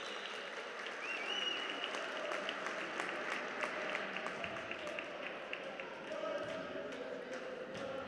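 An arena crowd applauds for a basketball player during a women's league game, a broad wash of clapping with scattered ball bounces and an announcer talking over it.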